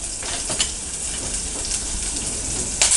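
Sliced onions and garlic sauté in oil in a pan for onion-garlic sambar, giving a steady, close sizzle with a brief louder clatter at the end.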